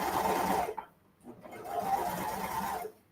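A sewing machine stitches curling knit fabric for a ruffle dress. Two close runs of rapid, steady whirring are split by a short pause.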